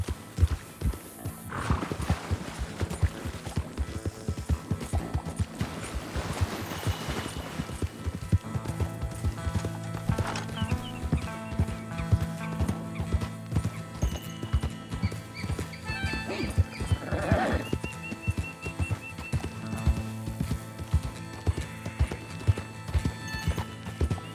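A horse gallops in the video game Red Dead Redemption 2, its hooves pounding in a fast, continuous clip-clop rhythm. Whinnies and neighs break through over game music, and there is no talk.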